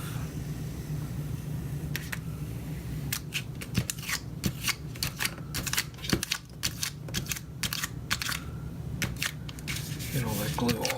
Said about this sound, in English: They put the sticker on here. I hope that sticker comes off.